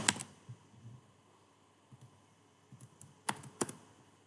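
Keys on a computer keyboard tapped in short, scattered clicks and a few sharper strikes, quiet and close with pauses between bursts.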